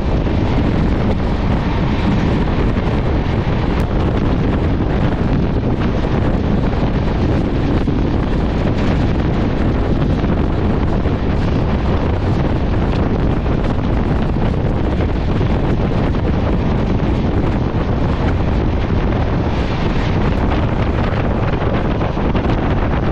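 The Sri Jagannath Express, train 18409 from Shalimar to Puri, runs at speed with loud, constant wind buffeting the microphone, a dense roaring rush that never lets up and covers any wheel or track detail.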